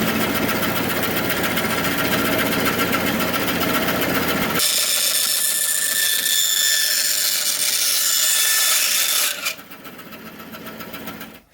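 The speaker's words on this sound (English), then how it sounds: "We're going to test a bandsaw on this polycarbonate right here." A bandsaw cuts through a polycarbonate greenhouse panel: a loud, steady broadband whine starts abruptly and runs for about five seconds, then drops off as the blade clears, leaving a quieter hum.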